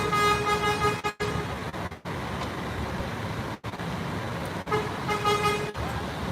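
Bus horns honking at the Batoh bus terminal, repeated tonal toots over steady traffic and engine noise, with a few short breaks, moderately distant.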